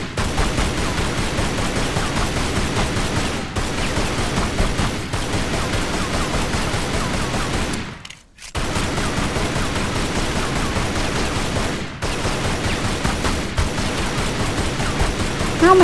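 Sustained gunfire from a weapon in Tomb Raider: Anniversary, set in Midas's Palace, rattles as rapid continuous bursts across the whole stretch, broken by a couple of brief pauses and one short silent gap.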